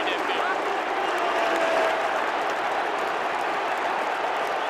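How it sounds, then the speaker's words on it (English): A football stadium crowd at a Melbourne v GWS AFL match roars steadily in reaction to a player, a broad, sustained wash of noise at even loudness with commentary voices running over it. "Crowd are letting Tom Scully know"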